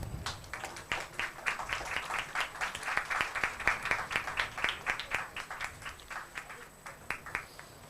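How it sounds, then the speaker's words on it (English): Audience applause closes a technology quiz event, a dense, steady crowd clapping sustained for several seconds at moderate distance, with no talking over it. "a huge round of applause for them"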